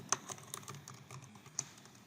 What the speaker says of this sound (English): type in the experiment name